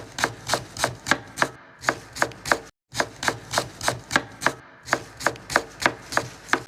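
A knife chops onion, garlic and ginger on a board in quick, even strokes, a steady run of close, sharp taps with one short pause partway through and no talking.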